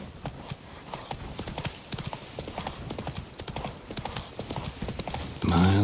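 Roach, the horse in The Witcher 3, gallops at a steady, rapid hoofbeat rhythm, close and moderately loud, with a short burst of other game sound at the very end.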